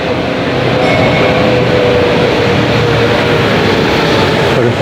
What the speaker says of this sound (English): This is the Old City train, which is a tourist attraction.